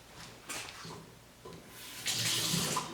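Tap water runs into a sink in short bursts as hands are wetted before handling sourdough, a soft splashing that swells louder toward the end with no voices.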